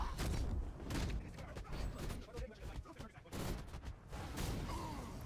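Gunfire in Batman: Arkham Knight, a dense, loud barrage of shots and booms spread across the whole stretch, with brief lulls and a voice talking over the combat.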